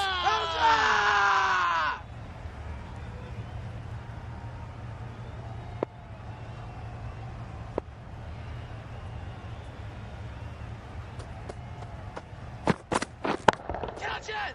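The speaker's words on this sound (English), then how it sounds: "Loud shouts." Crowd noise in the Cricket 22 video game, India versus England match: a loud burst of shouting at the start, then a low steady stadium murmur with a few sharp knocks and cracks near the end.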